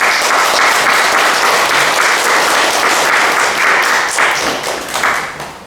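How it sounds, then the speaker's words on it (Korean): A large audience claps in a long, dense burst of applause to welcome a lecturer on Koryo-saram history in Korea, loud and steady before tapering slightly near the end. "우리 그 큰 박수로 김승혁 강사님을 맞아보도록 하겠습니다."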